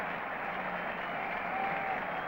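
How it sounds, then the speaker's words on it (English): A cricket crowd at Old Trafford applauds wicketkeeper Alan Knott's world record for Test dismissals, a dense, even wash of distant clapping heard as a continuous broadcast roar. "So applause for Alan Knott, establishing this new world record"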